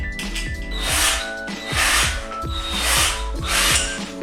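Screws being driven into a Flexispot E7 standing desk frame during assembly, four times in a row with a ratcheting, whirring burst roughly every second, close and clear with no talk.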